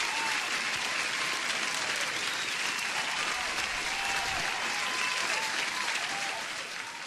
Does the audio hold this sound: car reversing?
no